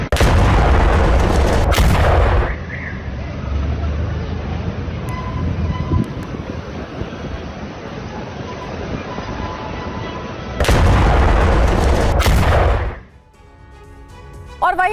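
Loud booming blasts from bombing in Gaza erupt at the start and again later, with a rumbling, noisy backdrop in between and a faint voice near the end.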